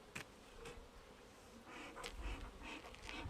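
Honey bees buzz around an open hive, a faint airy drone with a few louder passes as individual bees fly close, plus small knocks and handling noises, no speech.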